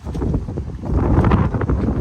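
Wind gusting hard against a microphone outdoors on a trick-or-treat walk, a continuous loud low rumble that swells and buffets throughout.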